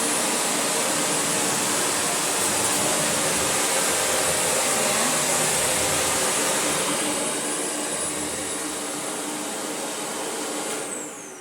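A Shark Navigator Lift-Away vacuum runs on its bare-floor setting, giving a steady, loud, close-up whine with a roaring motor that holds for most of the clip before easing down near the end, with no talking.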